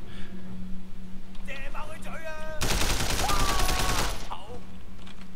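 Gunfire in the Sleeping Dogs video game, with a dense, loud burst of shots packed into the middle of the clip, framed by whistling and shouting voices and steady background game noise.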